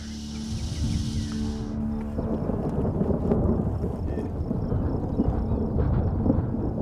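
A thunderstorm on the open land around Billings, Montana rolls on with deep continuous rumbling thunder and rain noise, loud and sustained, no voices.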